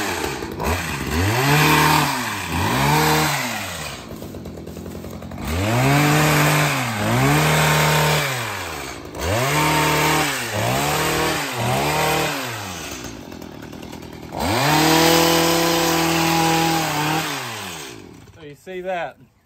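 An ECHO HCA-2620 gas hedge trimmer revs up and down in repeated loud bursts, its small two-stroke engine climbing and falling in pitch between short idle dips, close by and with no talk over it.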